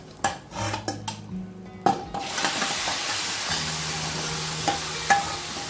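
A pot of Punjabi kadhi simmers on a low gas flame as a spoon stirs it, giving sharp metallic scrapes and clinks against the pot over a soft, continuous bubbling hiss.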